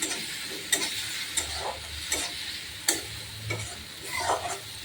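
Egg curry is stirred and fried in a pan, with a soft steady sizzle under repeated scraping and clinking strokes of a spoon, all fairly faint and without talk.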